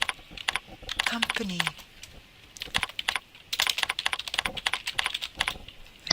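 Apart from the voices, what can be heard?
typing on a computer keyboard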